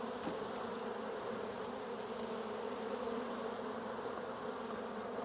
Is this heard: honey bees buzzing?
yes